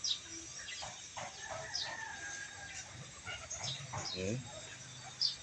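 Chickens cluck and call around a hen that is about to lay an egg, with soft, scattered clucks and a brief crow-like call over background farmyard noise; a person talks quietly nearby.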